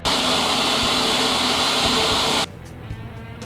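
A blender whirs at full speed, mixing a tomato vinaigrette with olive oil, salt and pepper, a loud, steady motor roar close by that cuts off abruptly near the end, leaving quieter room noise.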